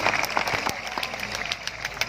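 Audience applause at a sixth-anniversary Islamic youth assembly gathering, greeting friends from Kediri: a dense crowd clapping steadily with sharp individual claps standing out over a low rumbling background.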